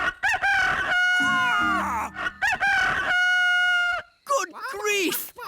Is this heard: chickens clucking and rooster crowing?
yes